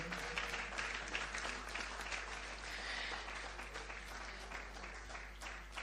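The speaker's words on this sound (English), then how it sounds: "A round of applause. Keep it going, keep it going" An audience claps in sustained, dense applause at the launch of the Diaspora Summit 2025 in Ghana, steady and fairly distant over a low hum, with faint voices underneath.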